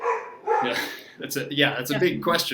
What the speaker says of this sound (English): my dog is getting very excited about it in the background